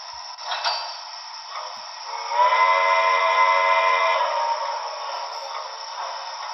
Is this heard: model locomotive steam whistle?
yes